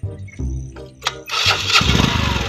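A motorcycle is kicked and started, a few short sputtering attempts with a sharp click before the engine catches and runs on a buzzing idle nearby.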